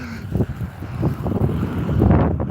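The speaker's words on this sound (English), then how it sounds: "Oh, it's getting a little bit windy here on the bridge." Gusty wind buffets the microphone on an open highway bridge during a snowstorm, rising and falling in loud rough bursts.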